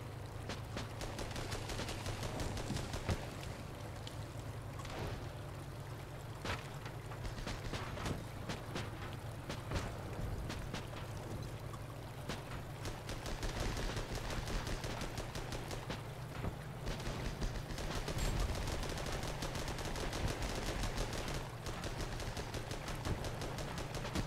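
Tank gunfire in the armoured combat game Armoured Battle Crew, with repeated sharp reports and booms over a constant low rumble of engines and battle ambience, moderately loud throughout.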